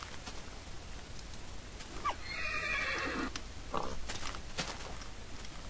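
Two horses whinny in the Mo'Creatures add-on for Minecraft, two bright neighing calls rising out of a soft game ambience a couple of seconds apart, with faint hoof clip-clop underneath.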